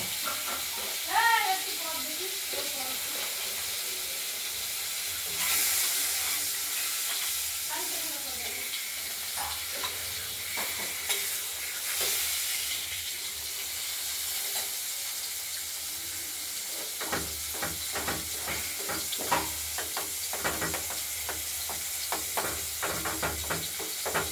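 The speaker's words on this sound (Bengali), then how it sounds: "আলুগুলো দিয়ে দিলাম। আলুগুলোকে ভেজে নেব।" Potatoes fry in oil for a Katla fish curry with a steady sizzle, under a voice at first and then joined by dense clicks and scrapes of stirring in the later part.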